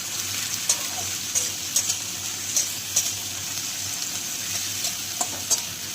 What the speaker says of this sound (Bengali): আলুটা খুন্তিটা দেওয়ার পর একটু হালকা হাতে খুন্তিটাকে চালিয়ে